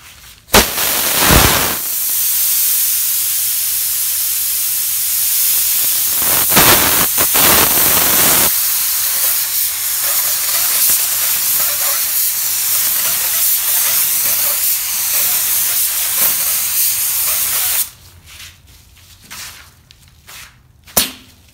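A spray gun lays a light automotive base coat onto a panel. A loud, close, continuous airy hiss runs for about eighteen seconds, with a few short bursts at the start, then cuts off, leaving quiet room sound.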